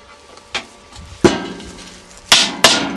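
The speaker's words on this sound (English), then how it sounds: "Once again, we take our chisel and hammer to start the hole." A hammer strikes a chisel on sheet metal to start a hole while building a rocket stove: several sharp metallic blows spaced irregularly, close and loud, the last few coming in quick succession.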